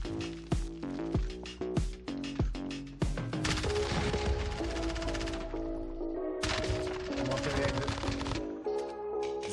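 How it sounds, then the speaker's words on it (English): Rapid bursts of automatic gunfire in a Warzone match, sharp cracks in quick clusters followed by sustained firing and clattering, fairly loud and up close. "I hear gunfire."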